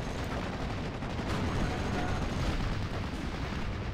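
Units firing in the WWII strategy game Steel Division: Normandy 44 make a continuous rumble of mixed gunfire and distant artillery thuds at a moderate, fairly even level with no clear breaks.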